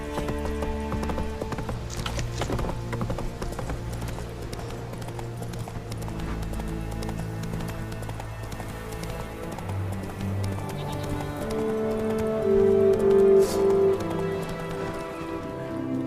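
Roach, the horse in The Witcher 3: Wild Hunt, gallops with a steady, rhythmic clip-clop of hooves throughout. A soft rain-like patter runs underneath, and a short tonal whinny sounds near the end.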